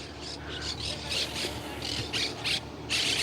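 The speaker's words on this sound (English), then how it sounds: "there's parrots in the park. Parrots." Repeated harsh squawks of parrots in a park at mid distance, irregular bursts over a faint background murmur that may include a voice.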